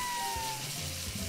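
Food sizzles in a frying pan in a Roblox video game, a steady hissing crackle with faint low thumps underneath, loud and close, with no talk.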